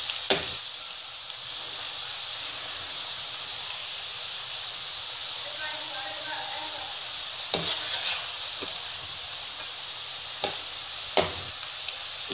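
Food sizzles steadily in hot oil in a pan over a low flame, a continuous hiss broken by a few sharp clinks and taps of a utensil.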